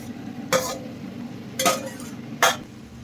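Fried jackfruit and potato stirred into spice paste frying in a pan, three distinct scraping clatters of a spatula against the pan over a faint steady sizzle.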